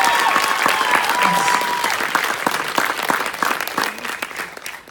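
An audience at an indie film night Q&A bursts into loud, sustained clapping with a few cheers and whistles mixed in, gradually thinning toward the end.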